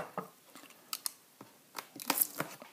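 Scissors or a blade cutting through the factory seal on an RC4WD Gelande 2 box, giving a series of short, close snips and crinkly plastic crackles with no talking.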